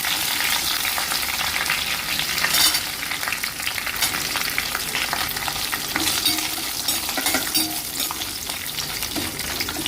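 Fresh washed mint leaves frying and sizzling in a pan while bagara rice is being made, a steady close crackle with occasional stirring, no talking.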